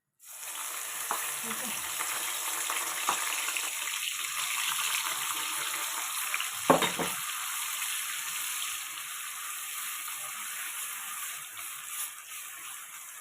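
Onion paste frying in hot oil for a chicken and chickpea curry, a steady moderate sizzle throughout with an occasional utensil knock and a brief spoken word.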